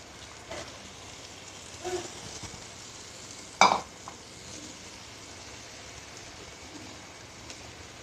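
Chicken bharta simmers and sizzles in a pan just after water goes in. The steady bubbling hiss is broken by a few sharp scrapes and clatters of a spoon, with no talking.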